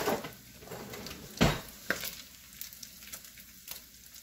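Bacon frying in a pot for chowder, a soft low sizzle broken by a few clinks and knocks of metal utensils against the pot.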